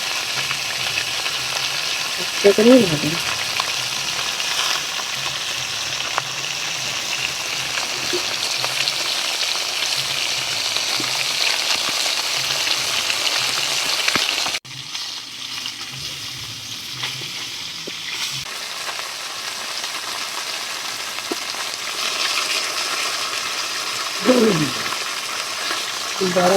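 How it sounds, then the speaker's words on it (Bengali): Tilapia fish frying in hot oil in a wok-style pan, giving a steady broadband sizzle that runs throughout, briefly dipping and changing character midway, with occasional clatter and a few spoken words over it. "কড়া গরম হয়ে গেছে মাছ ভাজার জন্য"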